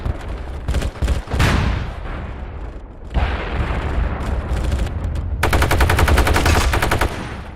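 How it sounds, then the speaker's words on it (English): Weapons fire from the game MAG heard at a great distance, with sustained machine-gun bursts and scattered shots carrying heavy environmental reflections, a rolling low rumble, and a rapid crackling volley near the end. "I also designed the weapons to sound very different when up close, as compared to a great distance."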